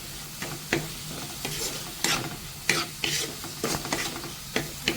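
Onion, green chili and curry leaves sautéing in a hot pan, giving a continuous sizzle punctuated by frequent sharp scrapes and stirring clatter close by.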